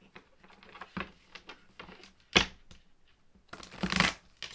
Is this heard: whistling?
no